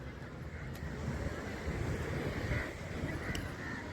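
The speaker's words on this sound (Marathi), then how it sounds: "समुद्र आहे." Sea waves wash onto Girgaon Chowpatty beach in Mumbai at sunset, a steady broadband surf roar mixed with wind buffeting, continuous and fairly close with no talk.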